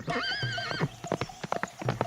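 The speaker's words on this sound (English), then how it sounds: "the farmer's son left the stable door open, and the horse ran away" A horse whinnies high and loud, then its hooves clip-clop in a quick, uneven run as it gallops away, close by and clear.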